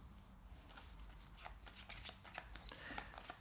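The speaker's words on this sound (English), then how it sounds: "And then shuffle again." Close, quiet riffling of playing cards being shuffled, a quick run of crisp flicks and taps over a few seconds, with no speech.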